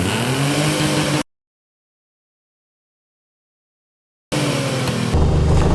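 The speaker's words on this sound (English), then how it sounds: "we revved it up from idle all the way to the rev limiter, both with the Silent Rider and without it" A vehicle engine is revved from idle up to the rev limiter, tested with a Silent Rider silencer and without it. A loud, steady engine roar is abruptly cut to silence, then returns even louder.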